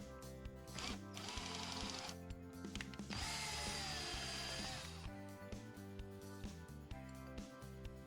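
A power drill whines loudly in bursts, revving up and bogging down as it bores through the fuel-filler lid housing of a 2004-2008 Ford F-150, close by.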